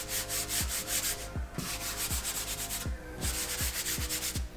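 Clay bar rubbing back and forth over damaged, trashed car paint, a steady coarse scratchy friction with rhythmic strokes, close and fairly loud with no voices.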